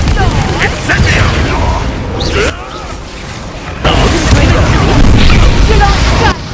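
Spell-combat effects in the fantasy game Hogwarts Legacy around an Incendio fire spell: whooshing bursts and booming impacts in a loud, busy fight, with a voice speaking over it.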